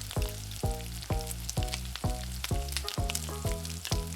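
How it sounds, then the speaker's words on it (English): Smoked salmon frying in a hot pan, a steady loud sizzle with repeated rhythmic clattering strokes about twice a second, no voices. "This smoked salmon needs to cook just a minute to infuse its flavor."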